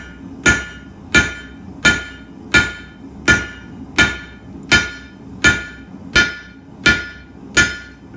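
Hammer striking hot H-13 tool steel on an anvil while forging a square taper for a punch: about a dozen sharp metallic blows in an even, steady rhythm, each ringing briefly, close and loud with no talk.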